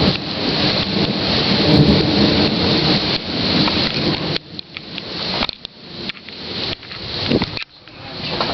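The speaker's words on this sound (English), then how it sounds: "the rain is coming back now. It's getting harder." Heavy rain pours steadily in Chicago during a tornado warning, with rolling thunder rumbling through a dense, continuous roar that eases and surges in the second half.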